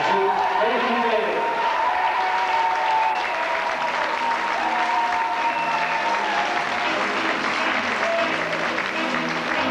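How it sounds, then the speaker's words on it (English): A pageant audience at the Miss Ireland 1992 contest applauds steadily for a contestant, a dense, even wash of clapping that fills the whole stretch with a voice faintly underneath. "Give her a round of applause."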